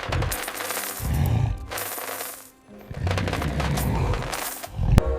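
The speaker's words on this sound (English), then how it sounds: "he placed a sack of gold coins which clinked like metal rain" Bursts of metallic jingling and clinking from a sack of gold coins tumbling together, in loud rushes separated by a brief pause, ending with a sharp clank.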